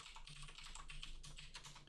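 Keys clatter in a quick, steady run on a computer keyboard as a root password is typed during an Arch Linux install, close and continuous for the whole stretch with no talk.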